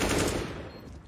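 A quick burst of automatic gunfire in Counter-Strike, loud and rapid, fading over about a second with a faint voice underneath.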